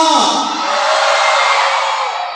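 A festival crowd at a town fiesta in Taguig City lets out one sustained loud shout, a broad roar that swells and holds for a couple of seconds.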